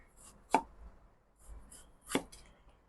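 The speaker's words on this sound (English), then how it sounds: "we will cut them into about 3 mm thick slice. Now do a slant cut" Two sharp knife chops through food on a cutting board as ingredients are slant-cut into slices about 3 mm thick, each a crisp close thud, spaced well apart with quiet between.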